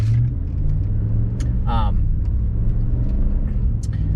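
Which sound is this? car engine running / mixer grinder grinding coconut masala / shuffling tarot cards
car engine running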